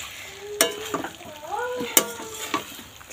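Vegetable curry stir-fried down in a pan gives a close, loud sizzle punctuated by several sharp spatula scrapes against the metal, with a brief wavering tone in the middle and no speech.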